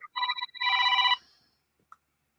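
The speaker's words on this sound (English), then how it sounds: "somebody's ringing" A telephone rings with a bright electronic trill, a short burst followed by a longer sustained ring, then cuts off, leaving quiet with a faint click.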